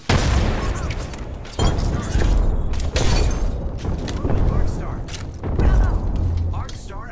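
Frag grenade blasts in Apex Legends, a series of loud, close booming explosions with crunching debris, repeating roughly every second or so over continuous gunfire and game noise.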